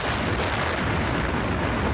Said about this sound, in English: Another explosion followed just seconds later, 7 times more powerful, the equivalent of 21 tons of TNT